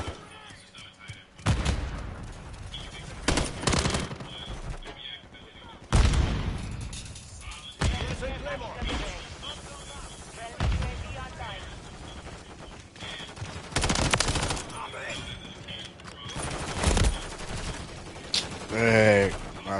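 Gunfire in the Call of Duty MW3 video game, loud bursts of shots and booms at intervals through the clip, with a player's voice talking now and then over the action.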